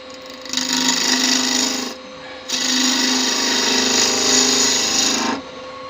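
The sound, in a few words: wood turning on lathe with bigger gouge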